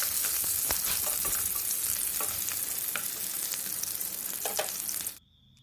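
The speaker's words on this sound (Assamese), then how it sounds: "তেলখিনি ভালদৰে গৰম হোৱাৰ পাছত মই তাতে পিঁয়াজ আৰু জলকীয়া দি ভালদৰে লৰাই দিছোঁ।" Sliced onion and green chili frying in hot oil for a spinach egg curry, a loud continuous sizzle with crackles and stirring scrapes that cuts off abruptly near the end.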